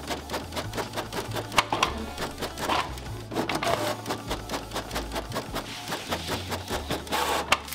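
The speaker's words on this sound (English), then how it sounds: "I'm gonna do as much printing as possible for the market and organising" Printer running through a batch of art prints in a home studio, producing repeated rhythmic mechanical clicks and feed rattles with a low motor hum, close up and continuous with no talk.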